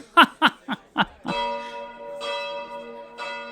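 A bell rings out with a long, sustained metallic tone after a few short bursts of chuckling laughter, then strikes twice more, each toll ringing clearly and fading slowly.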